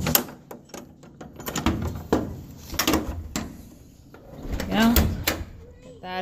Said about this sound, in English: there are also latches that will close the doors and lock them if we need to